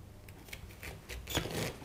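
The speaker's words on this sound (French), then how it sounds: "On coupe le chou chinois, puis on l'émince en fines lamelles." A knife slicing Chinese cabbage into thin strips, a few quick soft crisp cuts close by over quiet background, with no voices.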